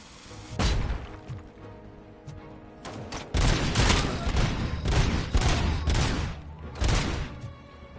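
Grenade blasts and bursts of gunfire from a PS5 shooter game, loud booming explosions and rapid volleys in clusters, with quieter gaps between them and no clear speech.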